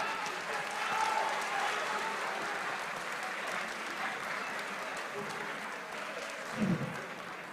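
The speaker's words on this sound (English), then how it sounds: "Please, let's clap for them." An audience applauds contestants at a school quiz competition quarter-final, a steady wash of clapping lasting several seconds at moderate level, with no talk over it.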